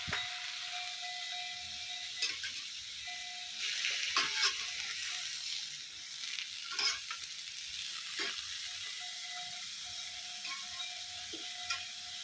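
Vegetables stir-fried in a pan, a steady sizzle with a faint tonal hum and irregular clattering scrapes of a utensil against the pan; close, no talking.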